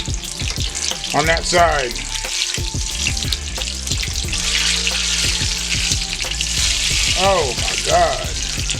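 Thanksgiving-leftover egg rolls fry in hot oil with a steady broadband sizzle throughout, while people talk over it.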